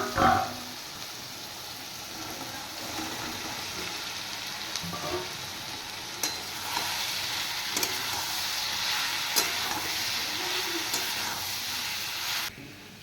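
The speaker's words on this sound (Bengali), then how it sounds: "মশলা ভাজা হয়ে গেছে, এবার আমি দিয়ে দিচ্ছি ভেজে রাখা আলু আর সয়াবিন।" Fried potatoes and soybean chunks tossed into spices frying in a pan, with a soft, steady sizzle and occasional light stirring clicks, fairly quiet and close, with no voices.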